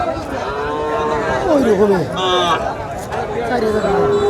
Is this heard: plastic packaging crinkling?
no